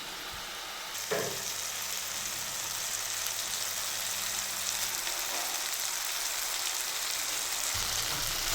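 Masala fries in a pan for cashew paneer butter masala gravy, a steady soft sizzle with a clatter of stirring near the start and gentle crackling that continues evenly to the end.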